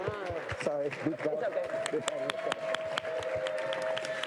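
Scattered clapping and applause from a crowd at a World Series of Poker Main Event knockout, building up while a voice talks over it and a tone sounds in the background.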